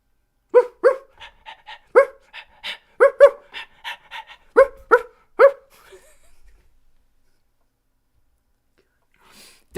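A small puppy dog barks and pants in a quick run of sharp yips and breathy pants over about six seconds, close and fairly loud, then falls quiet.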